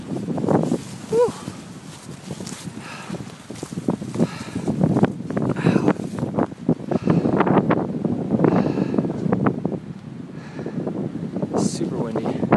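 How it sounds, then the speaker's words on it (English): Strong wind roars and buffets across the microphone during a snowstorm on Mt. Kittatinny, New Jersey, gusting unevenly while a person breathes and speaks briefly close by. "Super windy."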